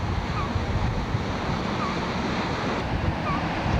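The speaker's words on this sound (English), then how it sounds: "Big wave." Ocean waves break and wash steadily onto the shore in a dense, continuous surf roar, with wind buffeting across the microphone throughout.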